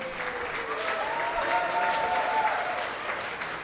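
Steady applause from a dinner crowd at the 2014 Celebration of Hope Dinner thanks the event sponsors, a broad wash of clapping that swells slightly midway and stays even throughout.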